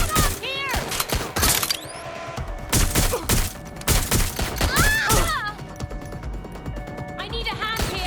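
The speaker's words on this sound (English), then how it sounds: "I'm getting shot up here!" Rapid bursts of gunfire in the video game Watch Dogs: Legion, loud and close, with repeated volleys over several seconds. Voices shout between and over the shots.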